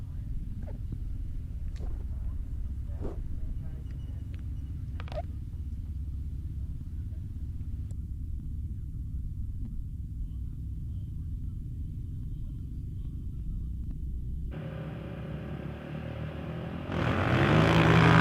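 ATVs race in the ATV Open class at the Canadian Power Toboggan Championships in December, heard as a faint, distant, continuous engine rumble that swells near the end.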